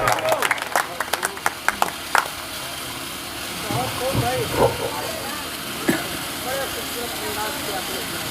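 Audience at a mushaira poetry evening claps in a short scattered burst at first, then the hall settles into murmur and talk with a low steady hum underneath.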